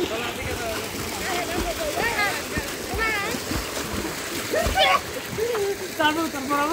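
A boat moves through water in Madinah, Saudi Arabia, with splashing and a continuous wash, while people talk over it nearby.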